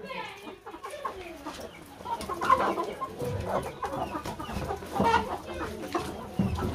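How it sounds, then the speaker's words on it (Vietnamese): Hens in a cage on a rainy village day clucking repeatedly at close range, with bursts of louder clucks, while people talk nearby. "Gà đây. Toàn mái nha các bạn nha."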